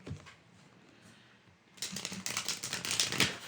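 A deck of cards is shuffled during a tabletop game session, a quiet pause followed by a brisk, close riffle of rapid crisp flutters lasting a couple of seconds.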